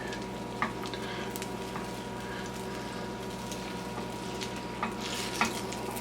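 Six eggs cooking in a pan for a garbage omelette as the outer edges get pushed toward the middle, a soft continuous sizzle under a steady hum with a few light scrape clicks.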